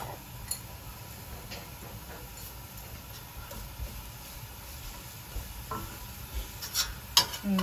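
A quiet, soft sizzle of chili flakes frying in a pan, with light taps and scrapes of stirring growing busier toward the end.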